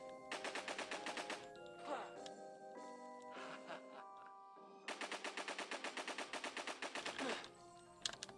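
Rapid automatic gunfire from the video game Alisa: The Awakening, several close, loud mechanical bursts with short pauses between them, the longest near the end.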